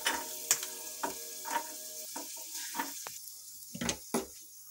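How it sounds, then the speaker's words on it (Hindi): Peanuts fry in a pan for a Navratri fasting thali, a soft sizzle broken by scattered crackles and scraping stirs, faint and without any talk. "ये हमारी मूंगफली भुनने लगी है, मूंगफली फ्राई हो चुकी है।"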